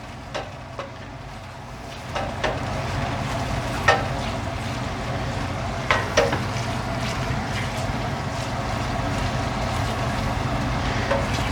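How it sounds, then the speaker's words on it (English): Butter melts in a hot pan while pork chops are being pan-seared, giving a steady, even hiss broken by a few scattered small pops and crackles. "we're going to take our pat of butter, throw it in there, get it moving around, nicely melted"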